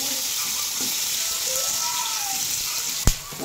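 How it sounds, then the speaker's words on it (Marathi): Onion fries in a little oil in a kadhai, a steady close sizzling hiss with a sharp clink of utensil near the end, continuous and fairly loud. "कांदा तळून घेते"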